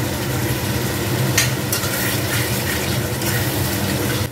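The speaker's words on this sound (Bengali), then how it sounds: "দিয়ে দিলাম আলু।" Fried potatoes tumble into a cooked-down masala and get stirred, a steady sizzle of frying filling the pan with soft scraping bursts, close and continuous with no talking.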